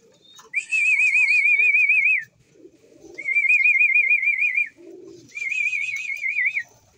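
Pet pigeons at a fancier's loft give three long, warbling whistled calls, each a couple of seconds, with brief low cooing between them, close by and with no talking.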